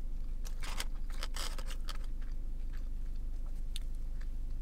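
Close-up crunchy chewing of Wendy's French toast sticks, fried battered bread with syrup, a run of crisp bites and steady munching, loud and near with no talk.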